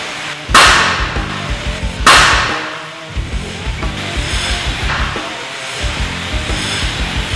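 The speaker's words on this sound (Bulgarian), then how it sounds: "Веднъж отпред ще бъде с чука, втори път отзад ръба на менгемето." A hammer strikes a sheet of tough plexiglass held against the edge of a vise, two sharp, loud cracking impacts over a steady low mechanical drone.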